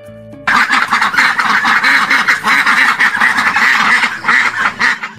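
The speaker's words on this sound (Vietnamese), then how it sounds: "Vịt là loài gia cầm thân thiện và thông minh." A duck quacks repeatedly in loud, close, rhythmic bursts, a steady run of nasal honking calls that carries on almost without pause after a brief quiet start.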